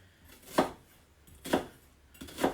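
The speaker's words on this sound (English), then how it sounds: "a sauce which we will need to dice quite finely 1 onion" A Japanese kitchen knife chops an onion on a board in three separate, evenly spaced strokes, each a crisp, close thud with a short crunch, and quiet between them.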